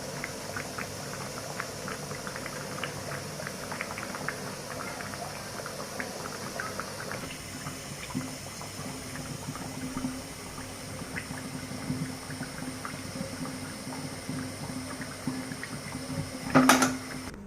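Pakan pitha, a Bengali rice-flour cake, fries in hot oil, giving a steady soft bubbling sizzle throughout with faint kitchen clatter and a brief louder clink near the end.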